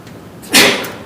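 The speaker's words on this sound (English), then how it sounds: "Had a sneeze coming on." A single sharp, close sneeze bursts out in a courtroom after a moment of quiet, then quickly fades.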